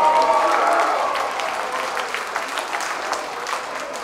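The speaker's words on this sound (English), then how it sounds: "Big fucking round of applause for yourselves." Crowd at a death metal concert in Los Angeles applauding, a dense wash of clapping and cheering that starts loud and gradually settles, with individual claps standing out as it tapers.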